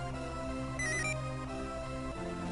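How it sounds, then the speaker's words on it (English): A cell phone ringtone from the Mother 3 video game: a short, bright melodic jingle that rises above a steady bed of game music, heard once clearly across the middle of the clip. "That's an interesting cell phone ring."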